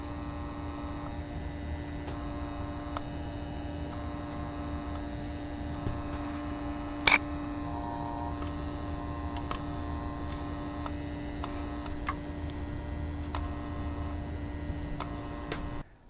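Pump of a Thermalright Frozen Prism 240mm AIO cooler with the pump cover removed and gentle pressure on the unit, giving a steady low electrical hum with faint ticking and one brief click, constant and close.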